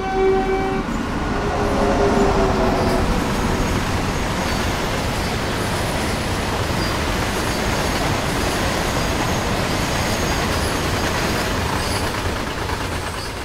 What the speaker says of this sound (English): full throttle to initially set the train in motion, then ease back on the throttle as you accelerate to reduce the risk of wheel slip